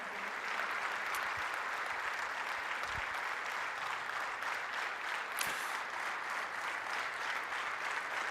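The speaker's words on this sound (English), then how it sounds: "They're applauding." An audience at a plenary session applauds in a steady, dense wash of clapping that holds at an even level throughout, with no voices over it.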